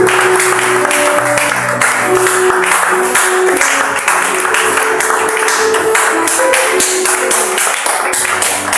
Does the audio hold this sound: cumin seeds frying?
no